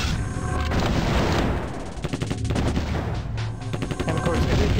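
Dense, continuous gunfire and booming explosions from the video game Terminator: Future Shock rattle on without a break, with loud overlapping shots and blasts.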